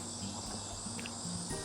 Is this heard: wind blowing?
no